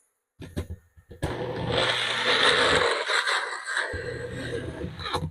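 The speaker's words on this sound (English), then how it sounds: "So into the blender, we'll get this started" A blender whirs loudly blending salsa for a couple of seconds, briefly drops out, then kicks back on, with some clunks and scrapes before it starts.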